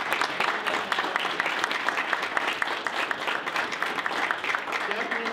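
A banquet hall audience at an awards dinner claps steadily in a sustained round of applause, heard from within the room at moderate distance, with some voices mixed in.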